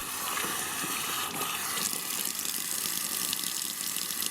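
A bathroom sink tap runs steadily as water is used to wet the face before a shave, a constant hissing splash at moderate level with no talking.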